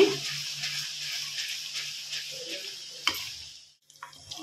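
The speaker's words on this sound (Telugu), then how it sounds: "ఇది అల్లం వెల్లుల్లి పేస్ట్ బాగా ఎర్రగా వేగాలి" Ginger garlic paste sizzles gently in a pan while being stirred for chicken pachadi, a soft steady frying hiss with faint scraping ticks, ending in a brief quiet pause.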